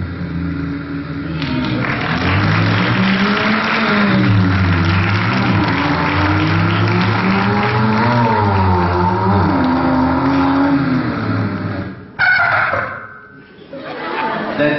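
A man imitates a Volvo bus air horn with his mouth, giving a long, loud, wavering tonal blare with engine-like throatiness, then a short burst and fading breath.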